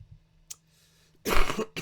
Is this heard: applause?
no